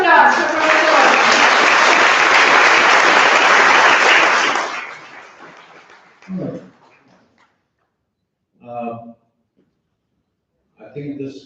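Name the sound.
audience applause at ceremony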